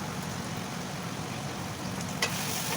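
Onion stirred together with ginger-garlic paste, soy sauce, tomato sauce and chilli sauce in a pan for cauliflower chilli, giving a steady close sizzle with soft scraping and one brief sharp clink near the end.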